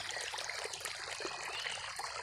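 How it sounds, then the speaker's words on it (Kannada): Irrigation water runs into a farm plot, a faint steady trickling and babbling flow with small splashes that continues evenly and quietly, with no voices. "ನೀರು ಕಟ್ತಾ ಇದ್ದೀನಿ"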